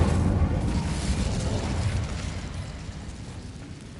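A broadband fiery burst from the Incendio fire spell in Hogwarts Legacy, a loud rumbling whoosh that starts at full strength and slowly fades over a few seconds, with no voices over it.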